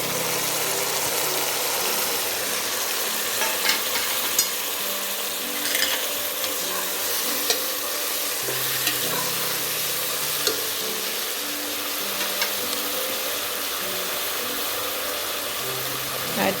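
Six big chopped tomatoes fry for tomato rice, giving a steady moderate sizzle with occasional spoon taps and stirring scrapes over a low constant hum, and no one speaks.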